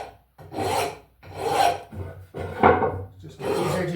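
A hand file rasps the edges off a metal part for a radius dresser, worked on a board that protects a lathe bed: five steady, close back-and-forth strokes with brief gaps between them.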